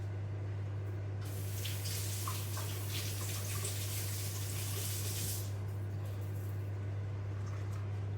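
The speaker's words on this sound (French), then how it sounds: "Je vais laver quand même mon bouquet" Tap water runs into a sink while a bouquet of herbs is washed, a steady close hiss and splash that rises for a few seconds as the herbs go under the stream, over a constant low hum.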